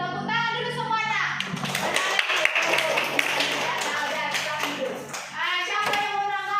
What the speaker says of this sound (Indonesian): tepuk tangan dulu semua nak